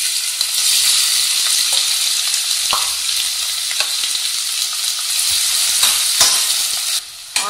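Sliced onions fry in hot oil with fennel seeds in a pan, giving a loud, steady sizzle with occasional crackles and stirring scrapes throughout, with no talking.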